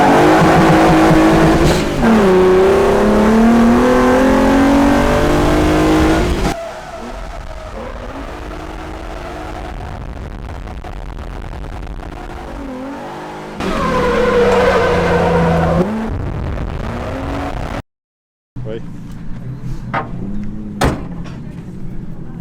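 A drift car revs hard and accelerates from a street-race-style start, loud and close, engine tones sweeping up and down, then quieter stretches and another surge, with a voice speaking at times.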